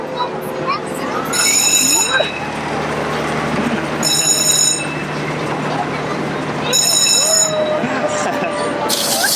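A park train at LEGOLAND Deutschland in Günzburg rolls past with a steady rumble, repeated bright high-pitched bursts and a long squeal, loud and near, while people talk over it in a busy amusement park.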